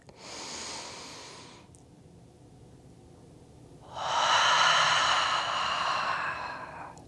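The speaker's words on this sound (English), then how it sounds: "Take a full round of breath." One full round of deep yoga breathing: a long audible breath, a pause, then a strong, breathy exhale. It sounds close and intimate, with no words spoken.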